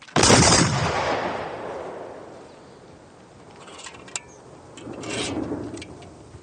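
A volley of rifle fire bursts out in one sharp, loud crack that decays into a long rumbling tail, followed by softer scraping and rustling and a second swell of distant noise.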